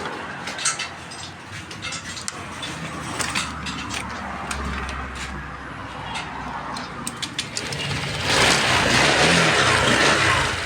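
A Honda Click v2 scooter with a check-engine fault and a no-start problem: mechanical clicks and ticks sound close up, then the engine catches and settles into a steady, louder idle near the end.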